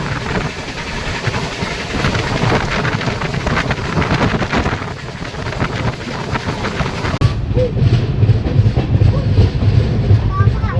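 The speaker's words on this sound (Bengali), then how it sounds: "দুপুর প্রায় 1:30টার সময় ট্রেন ধীরে ধীরে উত্তরপ্রদেশের মৌ রানীপুর স্টেশন এন্টার করছে।" A passenger train on the Howrah–Agra route rolls slowly into Mau Ranipur station in Uttar Pradesh, a close, continuous rumble of wheels and carriages with clattering and wind buffeting throughout.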